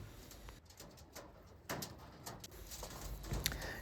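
Pigeons of a high-quality Andhra Lalsira breed from a loft coo softly and repeatedly in the background, low and steady, with faint rustling and no talking.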